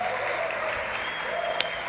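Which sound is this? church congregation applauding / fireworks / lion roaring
church congregation applauding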